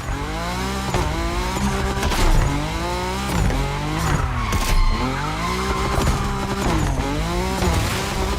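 Car drifting in The Crew Motorfest racing game with traction control off: a loud, continuous engine roar rising and falling through gear changes, with sustained tire squeal and skidding throughout.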